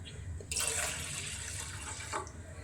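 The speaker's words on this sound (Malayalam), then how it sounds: "ഇതിനകത്ത് 1 ഗ്ലാസ് വെള്ളം" Water poured from a glass into a tea pot sitting on a stove: one steady splashing pour of under two seconds, close and alone.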